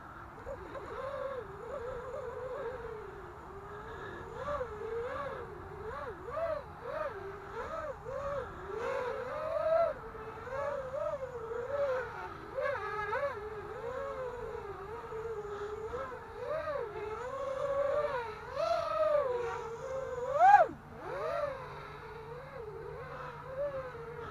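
A brushless motor driven by a Hobbymate 20A BLHeli-S ESC whines steadily, its pitch rising and falling as the throttle is worked, with a brief sharper surge near the end.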